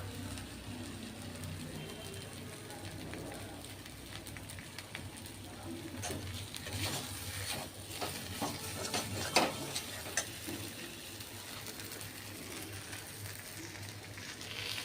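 Quiet scraping and soft sizzling as a thick banana flower mixture is stirred in a wok, with irregular clicks of the spatula throughout.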